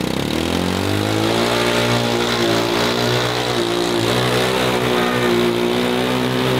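A kids' ride-on Jeep tries to pull a toy tractor out of mud, its motor droning and rising in a steady, loud whine that holds for several seconds with no speech.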